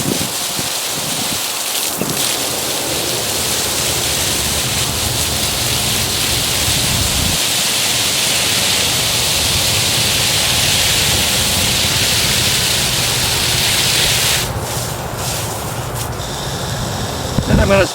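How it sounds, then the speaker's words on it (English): Water pours steadily from a hose or can onto freshly transplanted roses in a central Florida garden, a loud continuous hissing splash that runs almost unbroken, briefly dipping near the end. "So I'm going to water again here."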